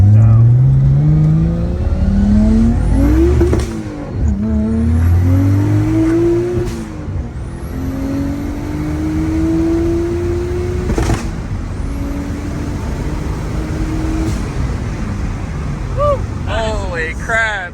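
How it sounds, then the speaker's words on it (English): A modified car accelerates hard during a pull, its engine note climbing loud and close through several gear changes, with rising pitch sweeps and brief shift dips, and people talking briefly under it. "So we're gonna do like an easy pull just so you guys can kind of see what this car is like."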